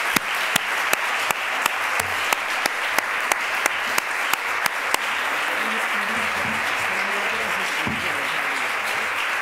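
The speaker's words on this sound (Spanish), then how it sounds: "Un aplauso para vosotras." Audience applause after a talk on Vivian Gornick, a sustained wash of clapping with a few sharp nearby claps standing out early, continuing with murmuring voices underneath.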